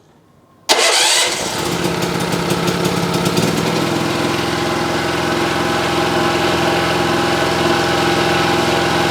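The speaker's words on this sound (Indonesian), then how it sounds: "kita coba menggunakan starter, kita hidupkan" A Mollar MLR 4500 SE petrol generator, 3100 watts, fires up suddenly on its electric starter after a brief whir, then settles into a loud, steady close-up engine drone.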